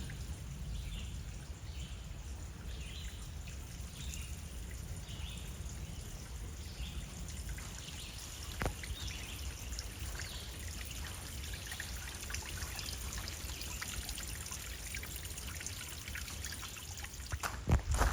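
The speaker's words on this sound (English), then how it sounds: "Here's the other direction of the creek or stream or river." Creek water flowing through a Midwest forest, a soft continuous trickle and burble heard faintly at a distance, with a few brief knocks near the end and no speech.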